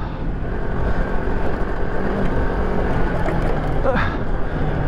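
A Moto Morini X-Cape adventure motorcycle being ridden, heard as a steady, loud engine drone blended with wind rush throughout, with a voice briefly over it.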